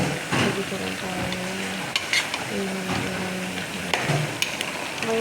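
Okra and string beans cooking in a home kitchen pan, with a steady low sizzle, occasional stirring scrapes and clinks of a utensil against the pan, and a few soft voices in the background.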